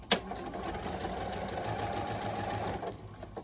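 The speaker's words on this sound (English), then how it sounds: "I'm just gonna sew one of these lines, and not even the whole thing, just enough to keep it from flipping over on me every time I move the piece." Sewing machine stitching a seam across a quilt block, a fast steady mechanical whirr lasting about three seconds after a brief click, fairly quiet and close with no voices.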